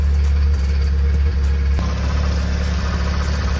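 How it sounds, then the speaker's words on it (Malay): Proton Wira car engine idling with a noisy air-conditioning pulley, a steady loud mechanical drone with a persistent high whine riding on top, heard close up under the hood with no talk. "So aku target bunyi tu datang dari puli aircon ni."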